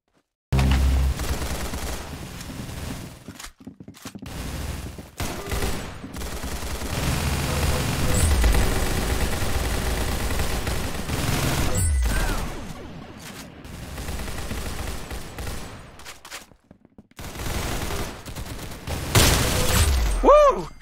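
Gunfire in the Roblox game Arsenal, with dense rapid bursts and repeated shots running through most of the stretch, broken by brief pauses, and a voice talking over parts of it.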